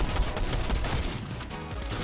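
Rapid in-game gunfire in a shooting video game, a fast string of loud shots that thins slightly toward the end.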